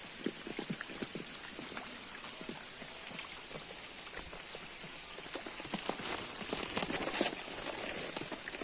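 Steady monsoon rain falls throughout during a first-rains crab hunt in the Konkan, a dense, even patter of drops with occasional louder splashes close by, and no voices.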